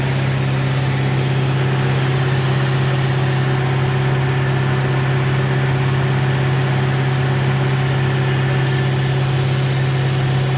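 Self-generating nitrogen servicing cart with its engine and compressor running under load, a loud, constant droning hum with a steady low tone throughout.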